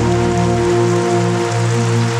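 Heavy rain pours steadily, a dense, even hiss of drops on surfaces that stays constant throughout, with a faint low hum underneath.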